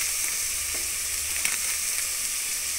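Homemade mixed masala powder and biryani powder frying in a pan for egg biryani, a steady, fairly loud hissing sizzle with a few faint stirring taps and no talking.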